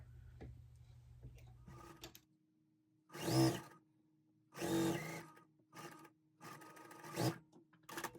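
A sewing machine stitches fabric pieces for a scrappy quilt block in short, quiet bursts separated by pauses, with a faint hum and light handling clicks around them.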